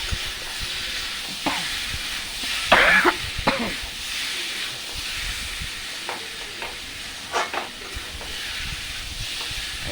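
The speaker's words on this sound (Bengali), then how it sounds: "চিনি লবণ হলুদ একসাথে দিয়ে আর লঙ্কার গুঁড়োটা দিয়ে ভালো করে একটু কষকে মিশিয়ে নিচ্ছি" Sugar, salt, turmeric and chilli powder stirred and fried together in a pan for a papaya dish: a steady hiss of sizzling with scattered scraping clatters of the spoon, one sharper burst near the start, no talk.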